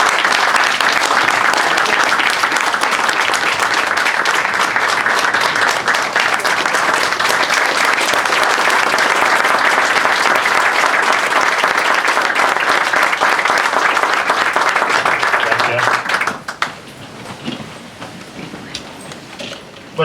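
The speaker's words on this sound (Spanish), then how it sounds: "tenemos que dar un fuerte aplauso." Loud, sustained applause honoring a leader at an economics talk on escaping the debt trap: a thick, continuous roar of clapping that suddenly drops off near the end to a few scattered claps.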